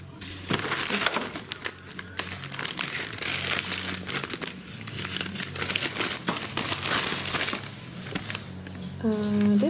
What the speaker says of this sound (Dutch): Je krijgt gewoon één papieren zak waarin alle ingrediënten zitten.